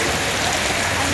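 Heavy monsoon downpour in Koodankulam, a steady, dense hiss of rain falling on surfaces, loud and continuous with no pauses.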